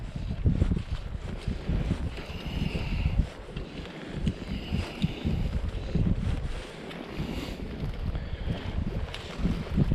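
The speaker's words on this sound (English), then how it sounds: "These gusts of wind." Blustery wind buffeting the microphone in rumbling gusts on Loch of Boardhouse, Orkney, with faint water and boat sounds underneath, no speech.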